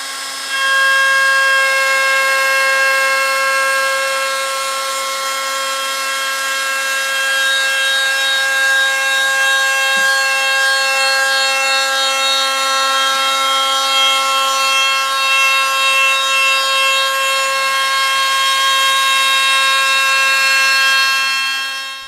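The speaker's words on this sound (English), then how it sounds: "a cove bit was used to route the edge detail on the underside of the top" A router fitted with a cove bit cuts the edge detail along the underside of a wooden tabletop, a loud, steady, high whine held without break from start to finish.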